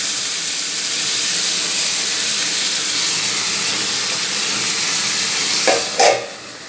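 A pressure cooker in a home kitchen releases a loud, continuous hiss of steam that holds steady, then ends with a couple of short sputtering bursts before easing off.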